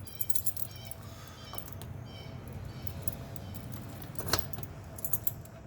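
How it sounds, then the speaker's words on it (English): A bunch of Ford car keys jangles close by as they are sorted and tried in a 1967 Mustang, giving bright metallic clinks in scattered bursts with one sharper rattle near the end. "We have several Ford keys on here, so we'll figure out which one goes to what"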